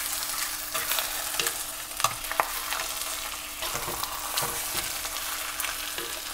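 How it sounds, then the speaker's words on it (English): Salmon fillet laid skin side down in hot oil with garlic and shallot, sizzling steadily up close, with occasional soft clicks and pops and no talking. "And then we're gonna lay in our salmon skin side down."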